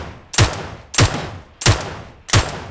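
Gunfire in the mobile battle-royale game PUBG Mobile: four sharp, loud shots spaced evenly about two-thirds of a second apart, each with a short ringing tail, close and clear with no talk over them.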